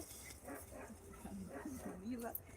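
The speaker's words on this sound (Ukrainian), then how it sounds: "Я чую собака гарна." A dog barks and whimpers in a home setting, mixed in with people talking nearby, with short yelps scattered across a couple of seconds.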